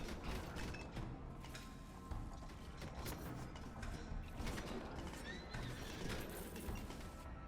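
A horse neighs in the video game Halls of Torment over dense, constant game noise, with clattering hooves and creaking mechanisms all through.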